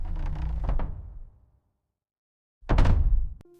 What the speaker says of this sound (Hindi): दरवाजा आहिस्ता बंद होता है और आवाज दिल तक पहुंची।